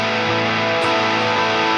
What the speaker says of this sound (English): I have an overdrive sound.